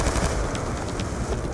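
Automated turret gunfire in the Black Ops 2 campaign, a steady rapid rattle of shots packed into a continuous roar, loud and close, with no talk.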